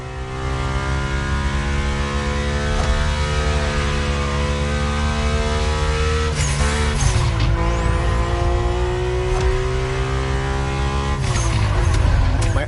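A Mercedes-AMG One hypercar driven in The Crew Motorfest, its engine sustaining a loud, steady, close whine with shifting pitch, and a brief tire or transmission change around the middle, with no talking.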